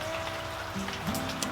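Rain falls on a homestead garden on a wet afternoon, a steady soft patter of drops with a few louder splashes near the end, alone without talk.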